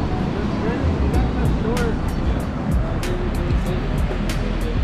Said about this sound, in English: And look at the beach. Beautiful ocean beach.